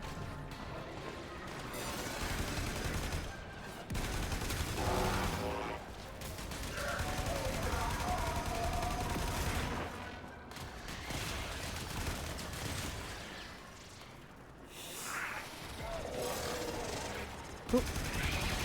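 Gunfire in the Warframe shooter, bursts of shots and crashing impacts running almost continuously at moderate loudness, with a sharp crack near the end and occasional talk mixed in.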